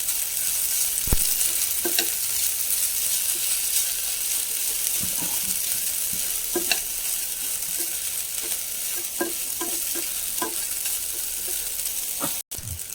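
Grated coconut stirred into ragi vermicelli upma frying in a pan, a steady close sizzle broken by scattered scrapes and taps of a spatula, with no talking.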